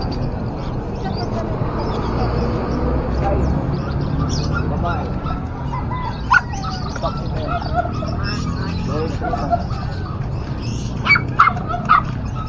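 Several dogs bark and yip sporadically amid busy chatter at a Saturday pet market in San Carlos City, Pangasinan, with some bird calls mixed into the noisy crowd.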